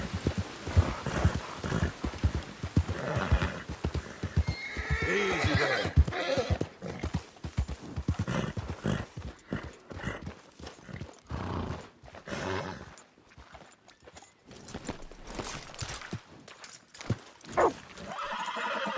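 A horse in Red Dead Redemption 2 whinnies and its hooves clip-clop, loud and busy with dense overlapping game sounds throughout.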